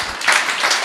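A church congregation at a Sunday service claps hands together in a brief, dense burst of applause.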